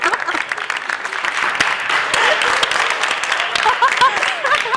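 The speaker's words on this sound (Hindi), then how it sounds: "बहुत दिल पे पत्थर रख के मैं ताली बजा रहा हूँ" Applause rises from a studio crowd at a talk show, dense clapping that goes on the whole time, loud and close, with voices talking over it.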